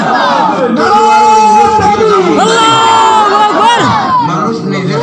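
A large crowd shouting a takbir (Allahu Akbar) together, loud and close, with sustained massed voices rising and falling over several seconds.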